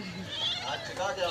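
A stray cat meows in a short, high, bleating cry with a person talking over it.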